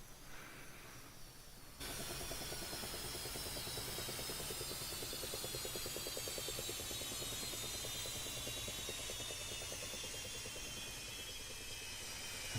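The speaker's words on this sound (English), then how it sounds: "We've got our friendly helicopter patrolling nearby in that area there." Video game helicopter patrolling near a parked EF-18 jet in a strike mission: a steady, loud rotor whir and engine drone kicks in abruptly after a quieter hiss and continues unbroken, with no talking.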